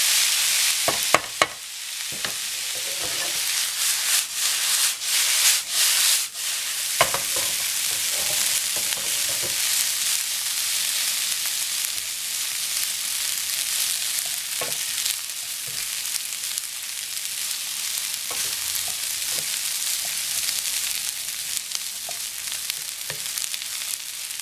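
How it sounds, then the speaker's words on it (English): Island curry fried rice stirred and fried in a pan: a steady close sizzle runs throughout, broken by repeated scraping and clattering strokes of a utensil against the pan, busiest in the first seconds. "Now you want to constantly be moving everything, constantly mixing everything, so everything cooks evenly."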